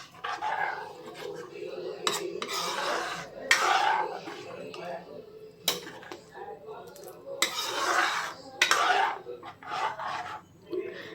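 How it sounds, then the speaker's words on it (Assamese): A spoon scrapes and stirs spices into lentil dal in a pan for a restaurant-style dal fry, with repeated rough scraping strokes close by and a voice speaking between them. "দি গোটেই মছলাখিনি দালিখিনিত ভালদৰে মিলাই ল'লোঁ।"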